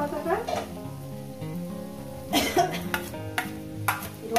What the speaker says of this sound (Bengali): লোতে দিয়ে ভাজবো, যাতে পুরো যাতে না হয়ে যায়